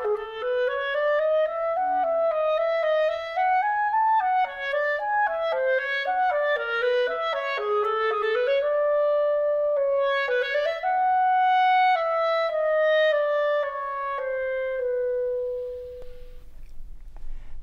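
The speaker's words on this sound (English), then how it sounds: "The clarinet is known for its warm, rich tone color" A clarinet plays a legato melody of clear sustained notes, moderately loud and close, ending on a long held tone that fades out, with no talking.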